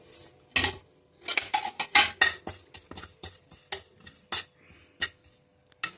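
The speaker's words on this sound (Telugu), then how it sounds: "జీలకర్ర వేపుతానండి లైట్గా" Cumin seeds dry-roasting lightly in an oilless pan for an amaranth leaf fry, with a spatula stirring and clinking against the metal in quick irregular taps and scrapes, close and fairly loud, with no talking.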